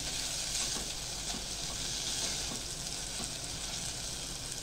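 A steady, soft sizzle of tempering spices frying in hot ghee, even and continuous, close by with no talking.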